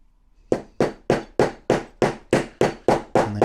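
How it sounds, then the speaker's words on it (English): Metal hinge pin being hammered home into the hinge of a 1/6 scale Armortek Hetzer Jagdpanzer 38 tank mudguard: ten sharp, evenly spaced hammer blows, close and loud, with no talking. "And then just hammer that home."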